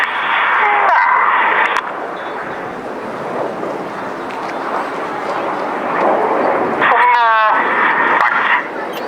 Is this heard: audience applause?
no